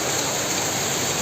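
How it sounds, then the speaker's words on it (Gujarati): Heavy downpour in Junagadh, a dense steady roar of rain hitting the ground and surfaces outdoors on a roadside, loud and continuous with no voices. "અત્યારે જુનાગઢમાં તો ધોધમાર વરસાદ ચાલી રહ્યો છે"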